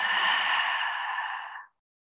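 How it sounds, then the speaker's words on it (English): One long breath is exhaled out through an open mouth, a close, airy whoosh that holds steady and then fades out to silence. "Now open the mouth and exhale out."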